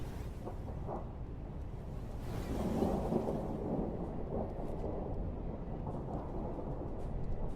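Steady rain hisses in Rain World, with a low rolling rumble of thunder building in the middle and continuing throughout, dense and fairly loud with no talk.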